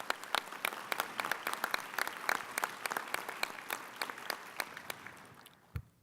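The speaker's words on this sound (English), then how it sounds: "let's give all of them here and back home a round of applause" Audience at a Lt. Governor's summit breaking into applause, sharp sparse claps close by with the crowd clapping steadily, then tapering off near the end.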